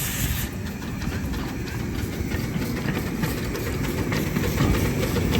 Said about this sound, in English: The small steam trains have been operating here since 1948